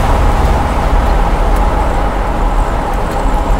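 A 1977 Corvette barn find with its 45-year-old motor accelerating on the road, a loud continuous engine and road roar with wind rush, steady throughout, with no talking.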